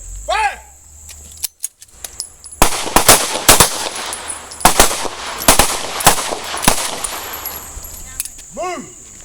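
Pistol shots ring out at a self-defense shooting drill, a string of sharp loud bangs fired in quick bursts, with shouted range commands before and after and faint insect-like chirps in the background.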